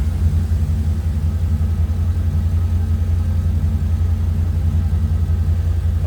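A 1952 Chevrolet 3100 Stepside street rod pickup with headers idles smoothly, a loud, steady low rumble with an even exhaust pulse that holds throughout, close by and with no voices.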